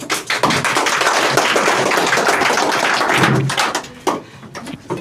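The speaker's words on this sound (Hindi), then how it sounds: "इनके लिए एक बार फिर से तालियों से स्वागत करें" An audience at a coaching-class farewell programme welcomes a student on stage with dense, loud clapping that runs for about four seconds, then thins into scattered claps.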